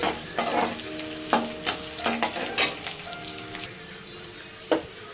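Dry red chillies fry in a pan, giving a crackling sizzle broken by repeated sharp bursts and stirring scrapes at an uneven rhythm, close and fairly quiet.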